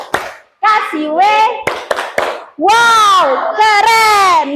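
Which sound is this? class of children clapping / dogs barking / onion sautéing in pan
class of children clapping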